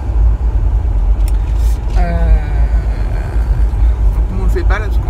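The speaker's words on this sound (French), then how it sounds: "Il y a trop de bruit dans la voiture." Steady low rumble and road noise fill the cabin of a moving car throughout, with a voice speaking over it in the middle and end.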